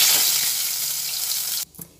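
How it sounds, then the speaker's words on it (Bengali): Bay leaf and white cumin seeds sizzle steadily in hot oil in a pan for a Bengali gondhoraj potol dish, a dense close frying hiss that cuts off abruptly near the end, leaving a faint tap. "তেজপাতা আর সাদা জিরে ভাজা হচ্ছে"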